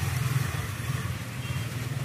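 A Royal 125 motorcycle engine idling steadily after starting, a close, even low putter with slight pulsing for about two seconds, no talking.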